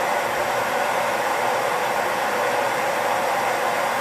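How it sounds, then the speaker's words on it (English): A blow dryer with a diffuser runs in one continuous, loud, steady whoosh while drying curly hair, with no talking over it. "I'll take my blow dryer and go ahead and leave it for the 10 seconds"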